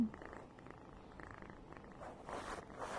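A sleepy kitten purrs softly and steadily, a low, continuous rumbling close by, swelling a little louder toward the end.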